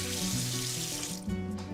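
Tap water runs steadily into a sink to rinse dried cracked corn in a kitchen, a close, continuous splash with small shifts in tone and no voices.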